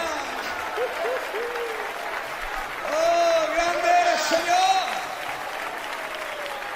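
A church congregation applauds at a Sunday service while someone speaks and exclaims over the clapping, which swells louder midway before tapering off.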